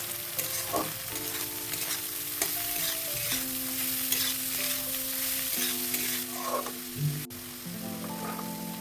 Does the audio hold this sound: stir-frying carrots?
yes